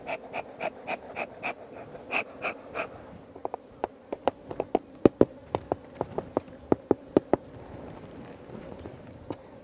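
Bees buzzing at an open top-bar beehive during a honey harvest in Karamoja, Uganda, with a faint steady hum under a series of sharp, evenly spaced clicks and taps, close by.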